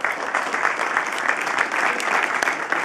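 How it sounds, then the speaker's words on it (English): A standing audience at a ProductCamp birthday event applauds loudly and continuously in a dense, close wash of clapping hands with a few crowd noises mixed in. "I think we owe Paul, more than anyone, a big round of applause."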